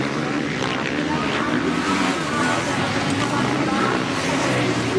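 Supercross motorcycle engine at a Monster Energy Cup main event, revving hard as the rider gets on the throttle, a loud continuous roar with crowd and commentary blended in.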